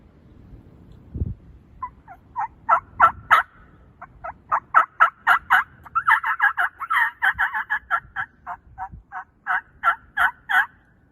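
A diaphragm mouth call imitates a turkey hen: a long run of rhythmic, nasal yelps in clustered bursts, close and clear, after a single low thump.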